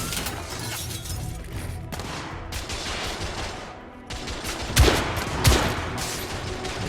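Gunfire in the video game The Order: 1886 crackles in sustained volleys, with two heavy, sharp shots standing out near the end over the rattling fire.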